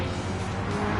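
A Supercars race car spinning out, its engine and tyres producing a steady, loud roar with a gritty broadband wash throughout, no voices over it.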